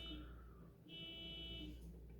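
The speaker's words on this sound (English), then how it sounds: "And the car alarm across the street is going off." Car alarm sounding from across the street at night, a faint, distant electronic tone held in long steady stretches with a short break between them, heard alone indoors.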